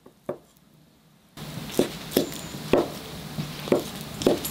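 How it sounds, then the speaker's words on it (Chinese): A knife chops pork lard on a board in a home kitchen: after a lone early knock and a short pause, about six steady, evenly spaced thuds land close by. "我为什么要切这个猪油呢？"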